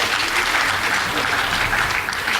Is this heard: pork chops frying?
no